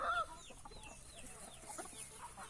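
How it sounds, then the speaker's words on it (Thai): Chickens cluck and chatter on a small farm where a flock is just being started, several birds calling in short overlapping bursts at moderate distance with no talk. "ตอนนี้คือไก่ยังไม่เยอะเนาะ"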